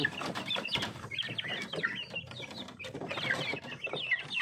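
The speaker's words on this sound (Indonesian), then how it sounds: "Ini ayam bangkoknya teman-teman" A flock of young Bangkok chickens, about two months old, clucks and chirps busily up close before feeding on a small poultry farm, with overlapping calls throughout.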